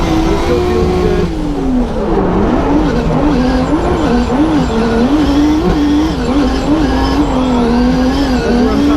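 A drift car slides around a race track in a pro drifting battle in Brazil, its engine loud and constant with wavering revs and tire squeal throughout, heard close as if from onboard.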